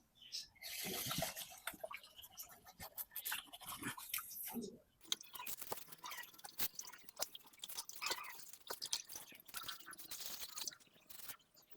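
A scrubber rubs against the glass of a fish tank underwater, giving close, irregular wet scraping and squeaky rubbing strokes with splashy bursts, quiet and uneven over several seconds.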